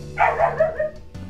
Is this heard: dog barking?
yes